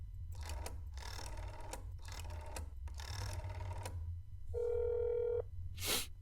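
A telephone rings in the horror video game That's not my neighbor after a number is dialed, with a steady electronic tone and a brief chime following a run of quick clicking keypad-like bursts.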